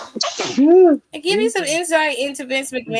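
A sharp, close sneeze bursts out, and then a person starts talking.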